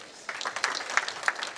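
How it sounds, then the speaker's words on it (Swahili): A crowd at a graduation ceremony starts clapping after a short quiet, a brisk scattered patter of many hands at moderate distance that carries steadily to the end. "Tupige makofi sawa sawa"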